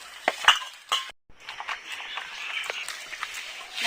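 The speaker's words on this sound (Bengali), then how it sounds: "এই ভাতগুলো আমি ভালো করে একটু চটকে নেব" Leftover soaked rice being mashed by hand in a bowl, with soft wet squelches and a few sharp clinks against the bowl, close and fairly quiet, one brief pause, no talking.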